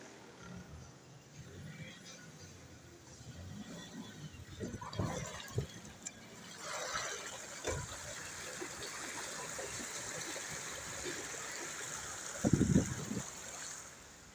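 Heavy rain with water flowing and gushing in a broad steady wash around an auto rickshaw, rising louder midway with a brief splashing burst near the end.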